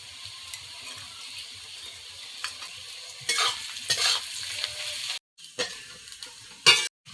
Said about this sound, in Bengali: এগুলো দিয়ে পেঁয়াজগুলো ভালো করে ভেজে নেব।